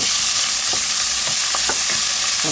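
Chopped onion and chilli fry in a pan with a bright continuous sizzle, broken by several quick scraping stirs of a spatula; no one speaks.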